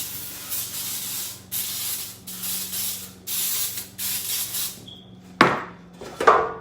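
Baker's Joy baking spray coats a half sheet pan in several close, loud hissing bursts, each about a second long with short pauses between, followed by a couple of sharp knocks from the can or pan.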